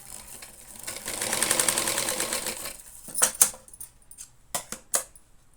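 A sewing machine stitches a tack into fabric while making a hanging tassel, a steady, fairly loud mechanical run of about three seconds followed by a few sharp clicks and knocks.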